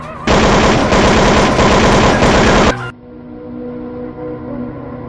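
A loud sustained burst of rapid machine-gun fire rattles for about two and a half seconds during a high school stage play, then cuts off abruptly, leaving a quieter hall with a faint voice.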